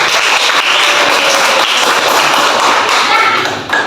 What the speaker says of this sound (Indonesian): Sebelumnya beri tepuk tangan untuk Bapak Antoni.